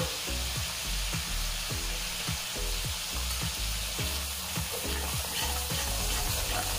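Spices with turmeric and salt sautéed in a pan for moong dal with spinach, a steady close sizzle broken by regular scraping spatula strokes in a repeating rhythm, with no voices.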